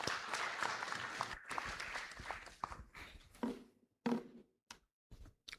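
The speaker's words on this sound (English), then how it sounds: "Why don't you clap?" Scattered clapping from a small audience at a stakeholders' workshop, strong at first, then thinning into a few isolated claps with short gaps between them.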